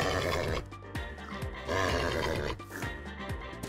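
Horses in Minecraft neigh and whinny in several loud, close calls, each a rough descending cry, separated by short gaps with low snorting grunts.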